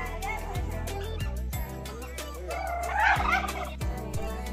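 A turkey gobbles loudly and repeatedly over a steady low hum, with a stronger burst of gobbling near the end.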